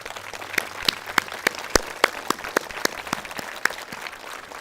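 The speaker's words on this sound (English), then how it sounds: "I want to give her a big round of applause." An audience at a Veterans Day event gives a round of applause, a wash of clapping with distinct sharp claps standing out close by, steady for several seconds.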